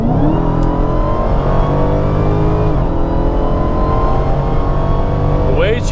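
A 2018 Dodge Demon accelerates hard from a rolling start in traffic, its engine note climbing steadily and loud from inside the cabin, with a brief shift and rising whine near the end.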